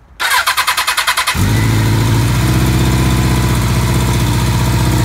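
A 1982 Kawasaki KZ1000M motorcycle engine cranks with the choke on in cold weather, a rapid rhythmic starter chatter for about a second, then catches and settles into a loud, steady, close-up idle with no talk.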